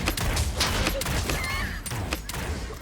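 Gunfire echoes through a firefight in the video game Realm Royale, a steady stream of pistol shots and impacts, loud and busy throughout.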